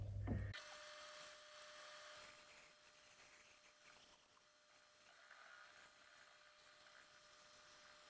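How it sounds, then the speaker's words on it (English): A lathe boring an inner hole gives a steady mechanical machining hum with a faint high whine, continuous and fairly quiet throughout. "I'll now start boring the inner hole"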